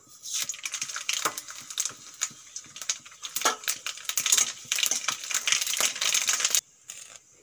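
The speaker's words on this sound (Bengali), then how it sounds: "তেল গরম হয়ে গেছে, এখন দিয়ে দেবো সর্ষে আর একটা শুকনো লঙ্কা।" Mustard seeds and a dried red chili hitting hot white oil in a wok, a dense, loud crackle of rapid popping and spitting that runs steadily before cutting off abruptly near the end.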